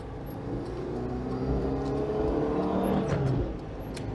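Inside a Citroen GSA with a 1.3 litre engine and 5-speed gearbox, cruising at motorway speed with the windows shut, a steady engine drone and road rumble fill the cabin, swelling slightly midway.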